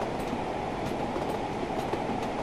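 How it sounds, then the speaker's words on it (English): Steam train in Train Sim World 3 rolling along with a steady wheel-and-rail rumble and faint rhythmic clickety-clack, continuous and fairly close with no talk. "Love that clickety clack."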